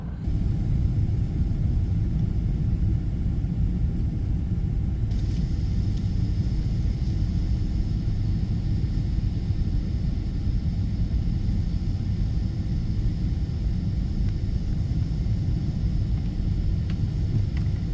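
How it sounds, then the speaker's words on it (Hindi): Steady broadband cabin rumble inside a Qatar Airways airliner descending toward Kuala Lumpur, a constant low roar with a slight shift in upper hiss partway through, no voices. "प्लेन का डिसेंट अभी शुरू हो चुका है and we are going to land in a very short while now"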